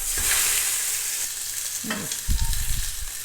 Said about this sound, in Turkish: Toparladıktan sonra etimizi çevirip koyacağız.